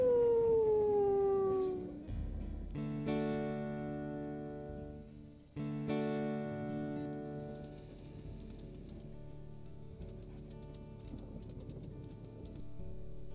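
A long, sliding animal howl rings out in the Moon Crest video game during the first two seconds, then gives way to sustained, layered musical tones that drone on to the end.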